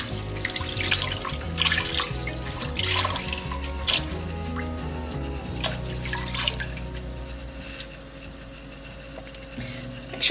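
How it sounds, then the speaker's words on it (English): Cold tap water runs from a kitchen sink faucet over a batch of homemade butter made from farm-fresh cream as it is rinsed, a steady splashing stream with drips and gurgles, close by and with no talking. "I'm gonna bring some water from your sink"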